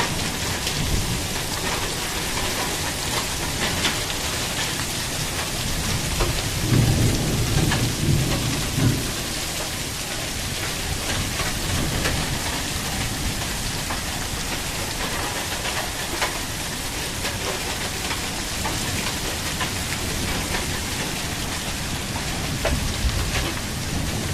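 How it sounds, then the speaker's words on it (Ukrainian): Hail pelting down with heavy rain during a thunderstorm in the Carpathian mountains. A dense, loud, unbroken roar of falling ice and water fills the whole stretch, with a low rumble swelling briefly near the middle. No voices are heard. "град падає, град"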